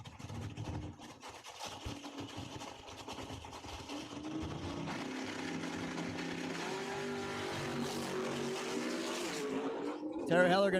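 Drag race cars, including a door car, roaring down the quarter-mile strip at Cordova Dragway during a small-tire points race; a continuous, distant-sounding engine drone that swells and builds to a louder burst at the end.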